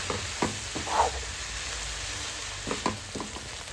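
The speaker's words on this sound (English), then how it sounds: "So I'm just going to put the gas on high and fry it on high for another 2 minutes" Chicken masala for a desi-style chicken pie filling frying over high gas heat, giving a steady, close sizzle with a few soft scraping stirs.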